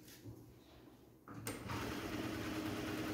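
A sewing machine starts up and runs steadily after a quieter opening, a close, even mechanical whir that holds to the end.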